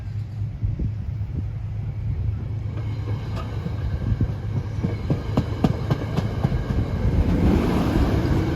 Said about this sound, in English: pulling out is 876 as we watch him fade away over CP25 and under the Tappan Zee Bridge eastern approach